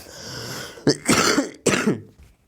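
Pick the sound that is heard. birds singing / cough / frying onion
cough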